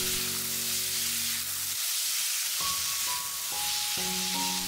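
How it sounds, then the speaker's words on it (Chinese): Pork slices, scallion and red pepper stir-fried in a wok give a loud, steady sizzle with hissing spatter and scraping stirs throughout. "再将大葱和红椒倒入锅中， 炒至断生后，将肉片再次倒入锅中"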